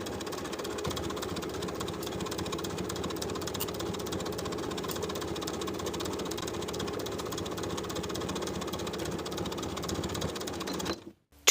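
Sewing machine stitching a shirtdress collar stand seam with a half-inch seam allowance, a steady fast mechanical whir running continuously and fairly faint, stopping abruptly at the end.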